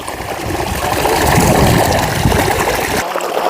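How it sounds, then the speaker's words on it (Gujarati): Irrigation water pumped into a field channel rushes and gurgles in a steady, close, turbulent flow. It cuts off abruptly near the end. "કુંડી સલીને પાણી જાય છે."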